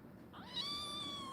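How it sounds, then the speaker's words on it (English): A young kitten, Bessie, gives a single clear meow that rises and holds as a close, fairly faint drawn-out cry over quiet room background. "What are you trying to say, Bessie?"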